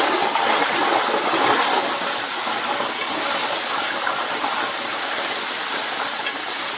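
Spoonfuls of jackfruit batter fry in hot oil for crunchy chakkapori fritters, giving a loud, dense, continuous sizzling hiss with fine crackle that barely changes throughout.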